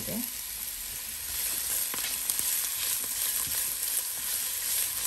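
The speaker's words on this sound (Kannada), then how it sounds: "ಇದು ಈರುಳ್ಳಿ ಕೆಂಪಗಾಗೋ ತನಕ ಹುರ್ಕೊಳ್ಳೋಣ." Chopped onions, three of them, sizzle steadily in a hot pan while browning for a chicken wing gravy, a continuous bright hiss with occasional small pops and no talking.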